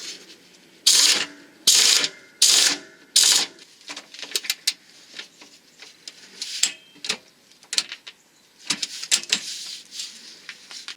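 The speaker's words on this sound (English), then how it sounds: "Refit the mounting bolt of the left tie rod." A ratchet wrench refits the left tie rod mounting bolt during a car clutch replacement: four quick, loud ratcheting bursts, then scattered lighter clicks and taps of tool handling, with no talk.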